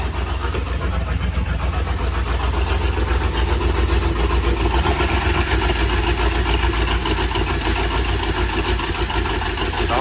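A 1971 Ford F250 truck engine runs steadily just after its first crank, a loud, close, continuous rumble with no talk over it.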